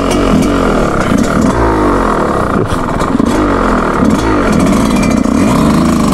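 A specially built Yamaha YZ125 two-stroke dirt bike engine labouring at low revs, loud and close, with a rough, uneven, stuttering blare that fluctuates throughout.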